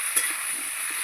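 Onions hit hot oil for a tilapia and vegetable curry with a close, steady sizzling hiss and a brief crackle at the moment they land.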